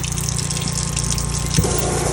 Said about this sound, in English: So I'm going to turn on the water, and I want y'all to judge for yourself.